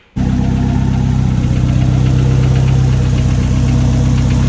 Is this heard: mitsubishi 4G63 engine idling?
yes